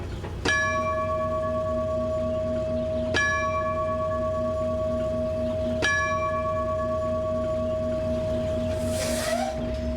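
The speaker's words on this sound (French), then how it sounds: "qui y ont même installé une cloche d'annonce" An announcement bell at a restored railway station building rings three clear, sustained strokes spaced about two and a half seconds apart, each tone ringing on; a brief hiss of air follows near the end.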